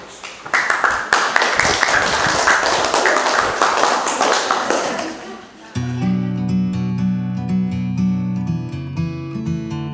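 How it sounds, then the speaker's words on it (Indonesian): A school class in an Indonesian language lesson claps together, a loud, busy burst of applause lasting several seconds before it stops abruptly and recorded pop music takes over. "Kita beri tepuk tangan"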